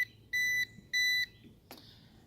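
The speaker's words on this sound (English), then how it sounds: "And you hear it beeping until it connects." Two steady electronic beeps from a Ruko F11 Pro drone controller while connecting, each lasting about a third of a second, followed by a short chirp, close and clear in a quiet room.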